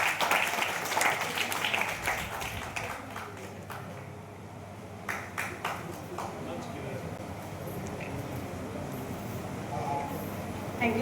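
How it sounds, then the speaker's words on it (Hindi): Students give a round of scattered applause to welcome a guest at an international seminar at M. V. College, loud at first and then thinning to sparse claps as the room settles. "बच्चे तालियों से स्वागत करेंगे"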